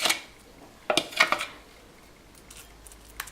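Thick lentil and oat paste scraped and spooned from a container into a bowl, giving a few quick clinks and scrapes of utensils against dishware, close and fairly quiet, with brief pauses between bursts.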